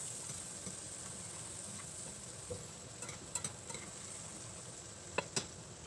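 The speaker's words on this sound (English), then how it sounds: "We're gonna put some diced onion. Let that cook for a few minutes." Diced onion cooks in a pan for garlic parmesan chicken, a soft, steady sizzle with occasional light clicks of a utensil stirring, fairly quiet and close, with no talking.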